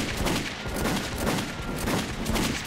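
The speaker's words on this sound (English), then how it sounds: "This pistol kicks ass" Pistol fire in the shooter Metro 2033 Redux: a string of close, rapid shots rings out over a dense, noisy game backdrop, with no talk.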